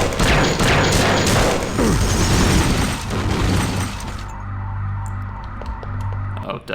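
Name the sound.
monitors being shot and broken in video game System Shock 2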